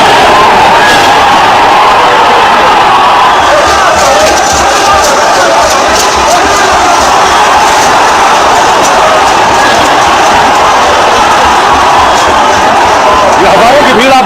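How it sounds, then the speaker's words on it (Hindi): A huge crowd of thousands of protesters in Nepal surging toward parliament after breaking through barricades: a loud, continuous roar of shouting voices and commotion close at hand, with no break throughout. "हजारों की भीड़ आप देख रहे हैं जो संसद की तरफ भाग रही थी"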